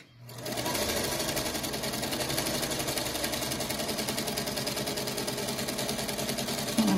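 A sewing machine runs steadily, stitching around a traced fabric circle for a farmhouse star quilt block, its close, even motor whir and rapid needle chatter continuing unbroken with no one speaking.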